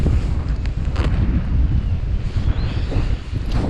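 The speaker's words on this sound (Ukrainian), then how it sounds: "У нас ураган надвигається, а я тяну рибу." Strong gusty wind from an approaching hurricane buffets the microphone beside water during pike fishing, a loud continuous low roar and rumble with no speech.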